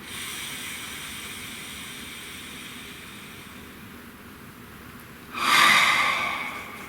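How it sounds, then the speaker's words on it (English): A single deep breath, a long quiet inhale and then a loud, close exhale that rushes out near the end and fades. "Breathe."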